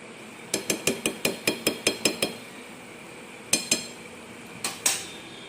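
A utensil knocks repeatedly against a pan while coconut laddu mixture is stirred, a quick run of about ten sharp metallic clinks followed by a pause and a few more scattered taps, close and fairly loud.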